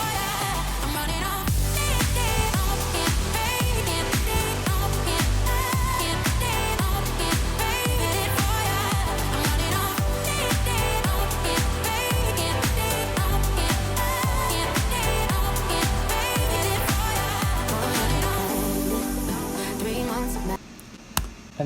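A tropical house remix drop with synth pads, plucked melody and steady kick-driven beat playing together, dense and full throughout before cutting off near the end, with no voices.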